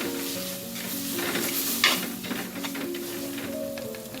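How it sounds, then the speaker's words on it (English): Ground chili paste sautés over a low flame in a clay pot, a close, continuous sizzle with stirring scrapes and a sharp utensil clink partway through. "Reduce the flame to low and saute the chili paste for 1 minute."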